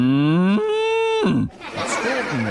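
A person's voice mimics a cow with one long, loud, drawn-out moo that swells in pitch and then breaks off, followed by brief laughter and talking.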